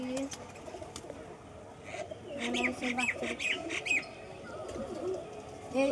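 Malobahie pigeons coo softly in low repeated calls, with a few brief chirps mixed in. People talk nearby, and the birds sound faint and close.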